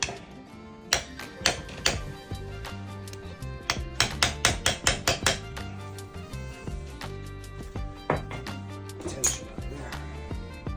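Hammer strikes on metal parts break a piece loose during a 172cc big bore kit install on an engine, sharp close taps and whacks in irregular bursts with a quick flurry in the middle.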